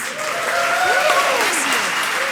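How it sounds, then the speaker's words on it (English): An audience applauds at a live-streamed conference event, steady dense clapping throughout with faint voices and brief vocal tones rising through it. "Now, to this year's applause."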